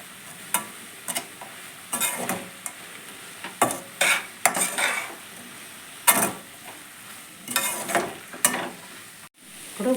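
Rice being stirred with spices in a pot for ginger rice with long beans, giving repeated scraping, rustling strokes at an irregular rhythm with a light sizzle underneath, close and moderately loud, with no talking.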